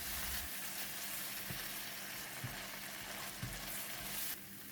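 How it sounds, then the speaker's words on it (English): Sambal with tamarind water, sugar and fish sauce stirred and cooked in a pan, a faint continuous sizzle broken by a few soft knocks of the spoon before it fades at the end. "Stir and continue to cook the sambal for 2 more minutes."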